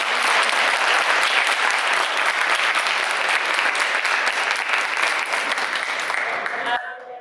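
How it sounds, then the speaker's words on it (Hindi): A crowd claps loudly and continuously, dense applause filling the space before fading out abruptly at the end. "क्या एक बार ताली हो जाए"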